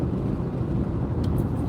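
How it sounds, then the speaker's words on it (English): A car engine hums low and steady from inside the cabin as a beginner driver gently rolls onto the throttle, a continuous rumble with no talk. "I'm gradually going to roll into the throttle again."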